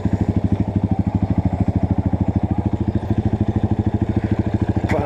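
A Honda CRF 230 motorcycle engine idles close by with a rapid, even, thumping pulse that holds steady throughout, loud and alone.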